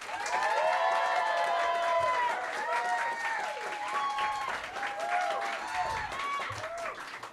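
Comedy club audience at a New York roast battle cheers, whoops and applauds loudly for a roast comic, a dense, sustained crowd roar that rises and falls slightly throughout.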